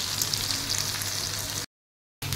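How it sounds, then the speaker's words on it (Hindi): Soya chaap frying in oil in a pan, a dense, close crackling sizzle that runs steadily, cuts out abruptly into a short silence, then resumes briefly. "दोनों साइड से अच्छे से इनको फ्राई कर लेना है"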